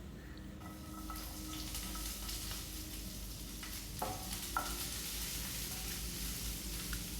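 Sliced onions sizzle quietly in hot oil with garlic for a potato and brinjal masala, a soft steady frying hiss with a few faint stirring clicks and no talking.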